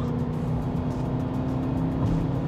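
A 2020 Aston Martin DBX's exhaust note as the automatic gearbox downshifts on its own for engine braking, a steady, loud, close rumble with a continuous low drone and no talk.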